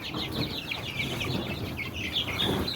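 Chickens cluck and chatter continuously at close range in a coop, several birds including chicks overlapping with a soft rustle of movement underneath.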